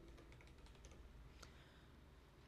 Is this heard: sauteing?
no